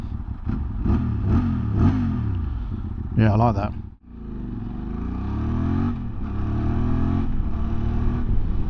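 A QJ Motor motorcycle engine runs and revs with rising and falling harmonic sweeps, loud and close, while someone talks over it.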